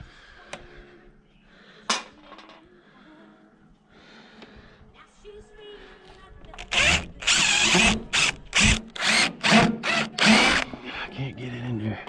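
Faint clicks and shuffling give way to a power drill whirring in several short bursts, pulsing on and off in quick succession, driving a screw into a wooden plug to pull it out.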